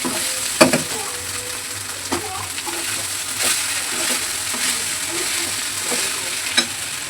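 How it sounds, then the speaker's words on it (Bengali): Flattened rice (chira) frying and being stirred in a pan, a steady close sizzle with scraping stir strokes and occasional sharper clinks, no talking. "এখন আমি চিড়াগুলো দিয়ে দিলাম।"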